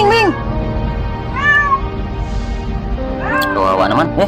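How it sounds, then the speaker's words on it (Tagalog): Cat trapped in a deep manhole meowing repeatedly, several plaintive rising-falling meows under steady background rumble while people talk nearby. "Malas pusa"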